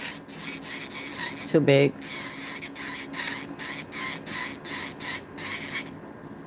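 An electric nail drill spinning at 5,000 RPM files away excess acrylic around the cuticle and apex of a nail, a steady whirring buzz broken by short pauses, with a brief spoken remark partway through.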